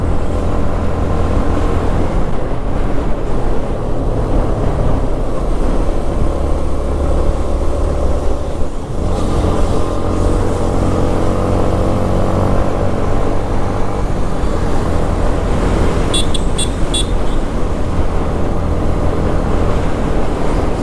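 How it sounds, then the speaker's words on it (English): A Yamaha MT15 motorcycle engine holds a sustained high-revving drone past 7400 rpm with steady wind and road noise, briefly dipping around the middle before resuming, with no voices. "After 7400 rpm, the motorcycle feels very light."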